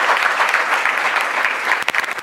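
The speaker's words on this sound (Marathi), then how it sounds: "जोरदार टाळ्या झाल्या पाहिजेत बाटे सरांसाठी" Steady, dense clapping from an audience at a poetry gathering, loud and continuous, ending in a few sharper, more scattered claps.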